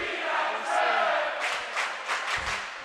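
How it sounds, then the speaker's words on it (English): A student section at a varsity water polo match in an indoor pool cheers and shouts as a crowd, a loud, echoing roar with bursts of yelling that rise and fall over a few seconds. "The student section cheering"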